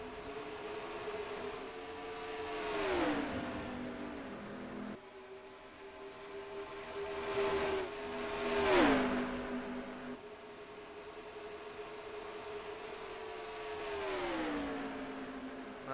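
Race cars in a racing video game near the pit road at Atlanta during a league race, engines droning steadily with three rising-then-falling passes as cars sweep by, no voices.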